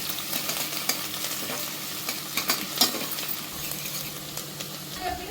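Onions sizzle and fry in oil in a pan for a Chamagada mutton curry, with steady broadband crackle and occasional stirring scrapes, close and continuous, no talk.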